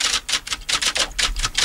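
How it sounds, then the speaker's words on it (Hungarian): A manual typewriter is typed at a quick, irregular rhythm, about a dozen crisp key strikes close by, each a sharp clack with brief gaps between, and no talking. "Ez rendes írógép."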